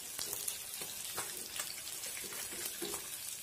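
Sardines crackle and sizzle in a frying pan just after being turned over, a steady close hiss broken by brief pops and spatters, with no voices.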